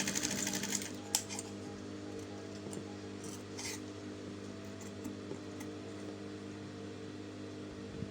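A sewing machine runs a steady, continuous back stitch on a halterneck dress, a close mechanical hum with faint clicks near the start.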